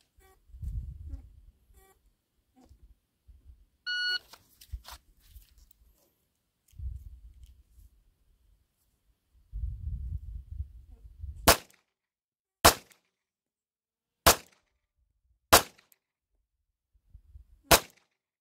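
Pistol shots from a Taurus GX4 Toro or Ruger Max 9 during a dot torture drill, drawn strong hand and fired weak hand: handling clatter, then five sharp, loud shots at a steady, slightly uneven pace.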